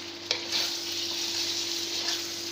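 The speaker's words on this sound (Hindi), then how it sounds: "इसको अच्छी तरह भून लूँगी।" Red chilli, crushed chilli and turmeric roasting in a hot pan give a steady close sizzle, with a brief clink or scrape near the start and no voices.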